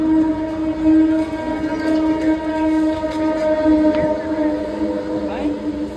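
A train pulls out of a busy Indian railway station, its steady droning engine tone holding near and loud for the whole stretch, with faint station voices underneath.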